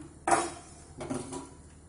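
A lid lifts off a cooking pot of keerai upma, giving one sharp metallic clank and then a softer second clatter, close by with no talking.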